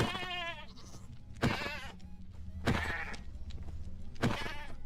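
Goats in the Minecraft Skyfactory 5 modpack bleat in three or four wavering, nasal cries with gaps between them, clear and close, with a low steady background hum.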